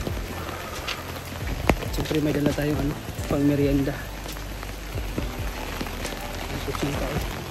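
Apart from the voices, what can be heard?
heavy rain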